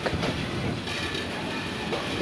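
The Burimari Express rolls in at platform two of Santahar Junction, a steady, loud rumble and clatter of wheels and carriages filling the whole stretch with no voices.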